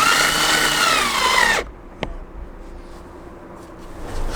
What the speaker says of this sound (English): Just have to put these screws back in